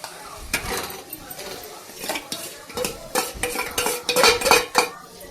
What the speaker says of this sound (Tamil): போட்டு நல்லா கிளறி விட வேண்டியது தான்